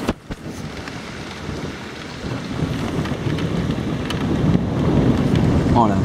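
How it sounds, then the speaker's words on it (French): Heavy rain pours steadily during a moderate-to-strong thunderstorm near Amboise, with low rumbling thunder swelling toward the end; a few faint voices are audible under the storm. "Il n'y a que du tonnerre hein."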